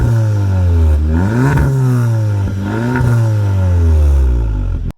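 Audi S3 engine revved repeatedly in comfort mode, with rising and falling harmonics from the engine and a whooshing induction sound, loud and close, with no talking.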